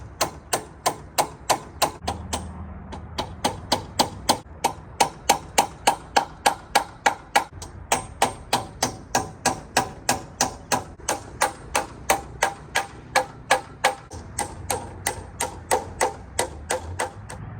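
Steady, rhythmic hammer taps on metal, roughly two strikes per second, as clips are hammered onto a railroad crossing gate, close by and continuing without pause.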